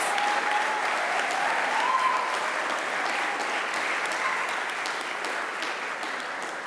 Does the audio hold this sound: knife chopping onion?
no